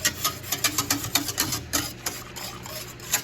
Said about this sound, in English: now I'm whisking in the bacterial cultures